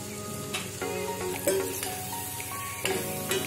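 Tomato cooked with masala and turmeric is stirred in a pan, a soft steady sizzle under scraping spoon strokes and a few clinks, close and continuous with no talking.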